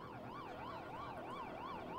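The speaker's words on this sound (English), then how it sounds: "Far away in the distance, there's the baying of an ambulance." A faint, distant ambulance siren wails in regular rising and falling cycles, steady throughout with no voices.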